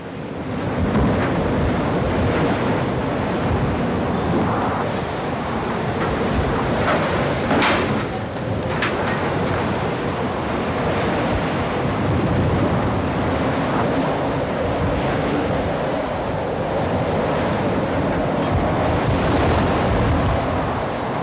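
Stormy sea waves crash and roar continuously around a fishing boat, a loud, dense wash of surf mixed with wind buffeting the microphone, and no voices.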